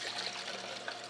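Vegetable juice pours in a soft, steady trickle into a container, faint and close with no talking.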